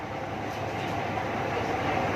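Passenger train at Sihanoukville railway station in Cambodia, a steady low rumble of rail cars with faint clicking wheels, heard close and alone.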